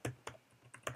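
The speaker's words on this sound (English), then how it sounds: "as I'm typing" Quick keystrokes clack on a Mac computer keyboard, five or so close, crisp taps at uneven intervals in a quiet room.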